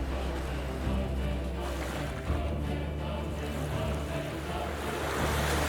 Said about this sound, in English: The waves were black, titanic. They rolled with fury.